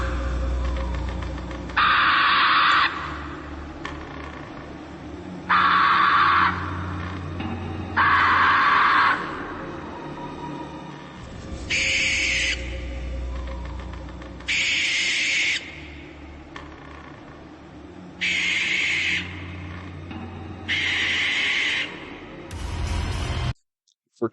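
Owl hoots and electronic animatronic sounds from a Spirit Halloween 6'9" owl Halloween prop come in repeated loud bursts over a steady low hum, with short gaps between the calls.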